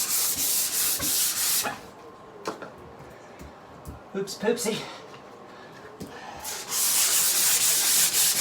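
Hand sanding fiberglass without a sanding block, with broad, rough scratchy strokes, loud at the start and end, with a quieter stretch of brief rubs and a short spoken exclamation in between.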